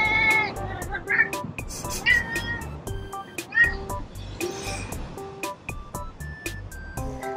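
A lonely cat meows repeatedly from a balcony, several short, fairly close calls scattered across the clip with other household sounds and some voices in the background.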